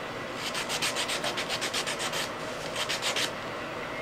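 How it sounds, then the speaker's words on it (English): Sandpaper is rubbed by hand along the edges of wooden winter craft decor. Quick, even back-and-forth scratching strokes come in two runs with a brief pause between them, close and steady with no talk. "Just sanding the edges a little bit."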